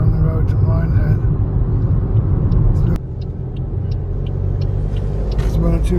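Road traffic on the route to Minehead rumbles past close by, a heavy vehicle's drone giving way to a lighter car sound midway, with a steady low hum throughout.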